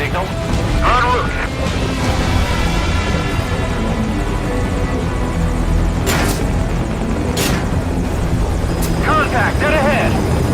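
A helicopter flies in Metal Gear Solid: a loud, continuous rotor and engine roar holds throughout, with short bursts of gunfire-like bangs and radio voices over the top.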